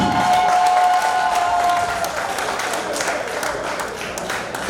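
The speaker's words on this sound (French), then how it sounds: "des applaudissements s'il vous plaît" Crowd applause at a live stage event, a steady wash of many hands clapping with some cheers, loud at first and easing slightly toward the end.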